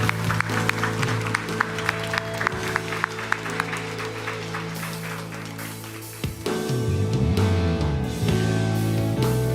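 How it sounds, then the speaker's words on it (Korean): A church congregation claps in praise during Sunday worship, a dense run of applause over sustained music, before the music shifts and swells at the end. "우리 함께 하나님께 영광의 박수 올려드리겠습니다"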